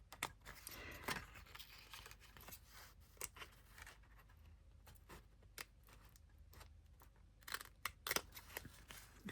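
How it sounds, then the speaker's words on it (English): Scissors cutting paper for a small vintage botanical file-folder craft, a series of crisp, close snips and slicing strokes in irregular rhythm, quiet, with soft paper rustling and no talk. "You could also take out some smaller scissors."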